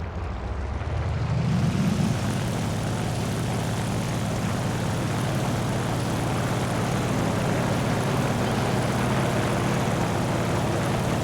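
An overheated Hurricane Mk IIB aircraft engine in War Thunder drones steadily and loudly, a continuous propeller roar that rises slightly at the start and then holds even and unbroken with no talking.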